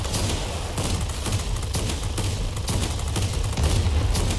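Rapid machine-gun fire from a BF 110 aircraft in a combat flight game rattles on steadily for the whole stretch, dense and continuous over a low engine drone, with no talk.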